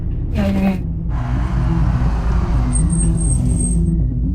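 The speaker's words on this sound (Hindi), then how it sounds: "एक सेकंड गाड़ी साइड में लगा" Car easing to the roadside, its engine rumble and road noise steady and loud throughout, with a brief hiss like a brake near the start.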